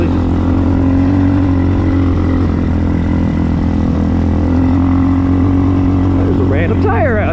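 Hawk 250 enduro motorcycle engine droning loudly and steadily up close while riding, holding revs below redline with a strong low hum, with a voice speaking over it near the end.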